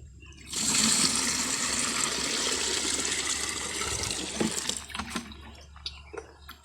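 Water pours and splashes steadily onto the soil of purple eggplant seedlings for several seconds, then tapers into uneven trickles and drips.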